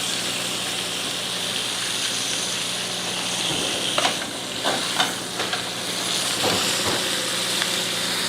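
Steak searing in a hot pan produces a steady, close, loud sizzle and hiss with occasional spits, pops and light scraping as the meat is moved.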